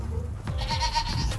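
Goats bleat at an exotic animal ranch, a couple of close, wavering calls standing out over steady outdoor background noise.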